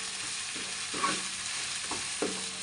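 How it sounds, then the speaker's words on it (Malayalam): Crushed ginger and green chillies sauté in a hot pan with a steady close sizzle, broken by a few soft stirring scrapes and taps. No one speaks. "ഇഞ്ചി പച്ചമുളകും ചതച്ച് വഴറ്റാം"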